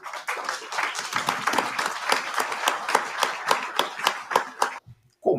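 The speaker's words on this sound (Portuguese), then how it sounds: "você vai ser aplaudido? Você não pode ser aplaudido." Audience applause in a hall, dense and loud clapping from many hands that runs steadily and then cuts off abruptly near the end, followed by a brief moment of a voice.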